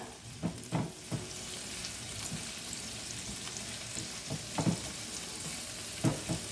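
Onions frying in a pan for an egg and vegetable paratha, a steady soft sizzle with a few clinks and stirring scrapes, close and continuous.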